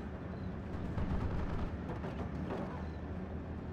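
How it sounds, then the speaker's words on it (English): Ammo cooking off in a World War II strategy war game, a dense continuous rumble of blasts and crackling detonations layered over steady battle noise, with no one talking. "Ammo explosion caused nearby suppression and panic"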